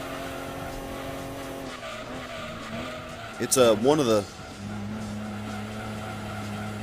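Race car engine from the video game Gran Turismo 2 drones steadily at a constant pitch, then a brief burst of tire squeal and skidding rises in the middle before the engine hum settles back, with a voice talking over it.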